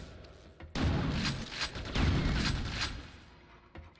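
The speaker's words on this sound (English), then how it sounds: "I think even those explosions hurt." Booming explosions and rapid blasts from the first-person shooter Quake II, a dense run of loud, overlapping bursts with no talk over them, tailing off toward the end.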